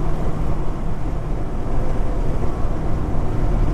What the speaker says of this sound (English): But this engine runs well.